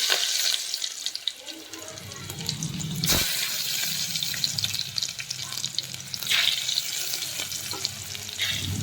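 Cumin and chopped garlic frying in hot oil give a steady, moderate sizzle with occasional stirring clinks, close by and heard alone.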